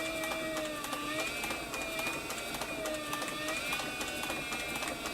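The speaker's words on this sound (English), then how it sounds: "I like this servo motor because you can just really slow it down and concentrate on sewing right in the groove." A triple-feed arm sewing machine driven by a servo motor runs slowly and steadily, a continuous whirring mechanical hum with faint repetitive stitching ticks, close and moderately quiet.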